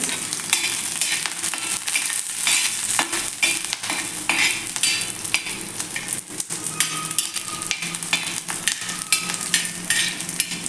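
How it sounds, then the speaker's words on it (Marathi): Garlic cloves sautéing in hot oil for a green tomato thecha, a steady close sizzle with busy scraping and stirring strokes of a spatula against the pan throughout, no voices. "यामध्ये आपल्याला ह्या लसूण पाकळ्या पण घालून घ्यायच्या आहेत या पण मिनिटभर असा व्यवस्थित तेलावरती परतून घ्यायचा आहे"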